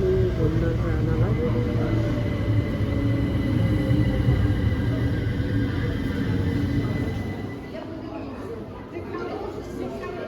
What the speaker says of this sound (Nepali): हाम्रो ट्रेन आयो